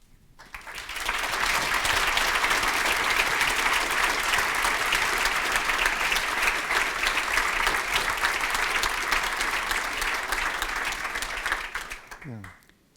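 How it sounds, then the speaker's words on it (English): Sustained applause from a conference keynote audience after a talk fills the room, steady clapping that swells quickly and holds for over ten seconds before tapering off. "not every talk gets applause, so thank you very much"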